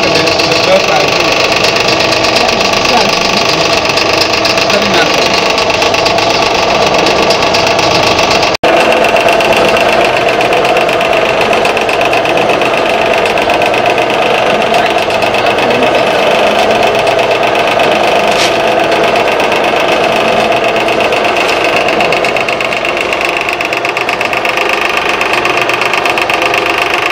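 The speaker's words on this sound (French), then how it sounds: "Cette machine que vous voyez là, elle est faite à produire moins 80 litres de beurre par jour." A cocoa butter cold extraction machine, built to produce about 80 litres of butter a day, runs with a steady mechanical drone and hum, loud and continuous, while a person talks over it.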